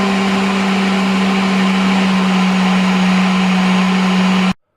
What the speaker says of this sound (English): back it goes onto the kitchen robot to give it one last